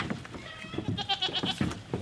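Several goats bleat in quick, wavering calls on a homestead, one after another with short gaps, fairly close and clear with no talking over them.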